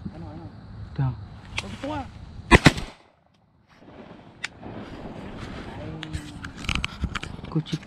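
Gunshots from shotguns while duck hunting outdoors, a loud close pair of blasts followed by a sudden drop and a few sharper cracks later, with people talking throughout.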